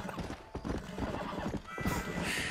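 In the Red Dead Redemption video game, a horse whinnies loudly near the end while hooves clip-clop in a quick, steady rhythm throughout, close and clear.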